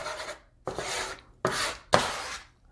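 A large spatula stirs rice ramen noodles in four separate scraping strokes, each a close rasping swish with a sharp start and a short gap between them.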